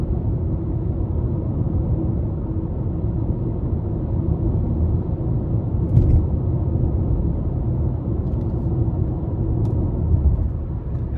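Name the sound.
2024 Nissan Sentra SV 2.0 CVT driving, interior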